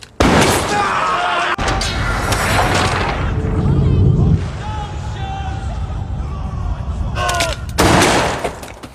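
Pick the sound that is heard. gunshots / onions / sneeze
gunshots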